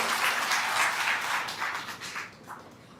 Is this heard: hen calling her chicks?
no